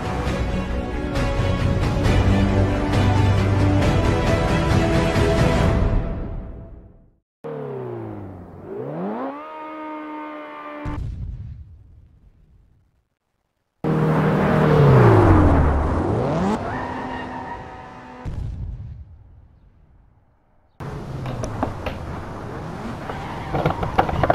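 A Mazda MX-5 engine screams as it is forced into first gear at about 130 km/h, loud sustained revving with sharp pitch sweeps, drops and brief silences as the engine over-revs and fails.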